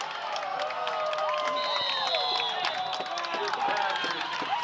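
Crowd of Belmont high school football fans cheering and shouting in a stadium after an interception, a steady loud roar of many voices with scattered whistles and claps throughout.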